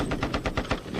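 Gas-operated machine gun rated for 550 rounds and 1,100-meter range, fired on a National Guard training mission: a rapid burst of about six evenly spaced loud shots in one second, close and alone.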